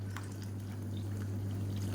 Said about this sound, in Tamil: இப்போ வந்து சுடு தண்ணி வந்து நான் வச்சுருக்கேன் அதனால் சேர்த்துக்கிறேன்